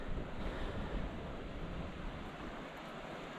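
The Cann River flows beneath a free bush campsite: a steady, broadband rush of moving water with wind noise over the microphone, continuous and fairly loud, with no voices.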